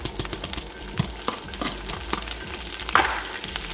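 Green beans and onions frying with salt in a pan over medium-high flame, a steady close sizzle with scattered scraping and stirring clicks, no voices.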